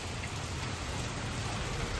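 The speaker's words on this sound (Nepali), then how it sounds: "अहिले चाहिँ यस्तो दिन भएछ पानी पर्नु थालेछ" Steady rain falls in Gangtok on a hazy day, a dense continuous hiss of drops pattering on surfaces, even and moderately loud with no voices.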